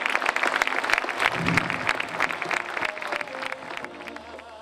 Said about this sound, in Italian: Franco Fortunato, a cui va il nostro applauso.